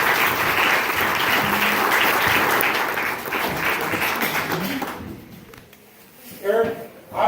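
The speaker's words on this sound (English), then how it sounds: "Guys, give Eric a round of applause" Audience at a live magic show claps loudly for a volunteer called up on stage; dense applause fills the first five seconds, then fades into softer room noise and a couple of thuds, with cheering voices mixed in.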